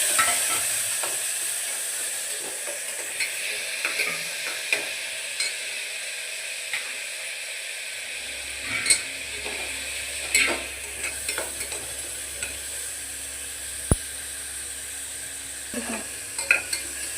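Tomatoes and chilies fry in a hot pan under a soft, continuous sizzle, punctuated by sharp scraping and clinking strokes as a utensil stirs them, with a low hum entering partway through.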